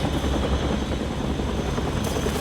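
A helicopter in the video game Still Wakes the Deep produces a loud, continuous rotor and engine rumble that fills the whole stretch without any talking.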